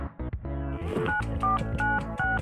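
Touch-tone telephone keypad beeps as a number is dialed, a quick run of short separate tones following a few soft clicks, close and clear with no talking.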